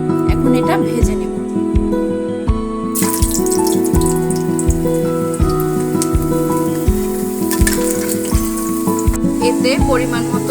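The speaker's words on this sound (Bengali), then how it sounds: "আলুটা কেটে নিয়েছি, এখন এটা ভেজে নেব" Cut potatoes fry in hot oil, giving a steady sizzle that runs under a loud, tonal music bed with a voice, growing brighter and fuller partway through.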